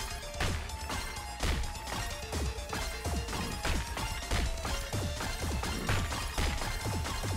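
Bone and flesh piles being smashed in the video game Sea of Stars, a rapid run of loud crashing hits, one after another, over a continuous background score.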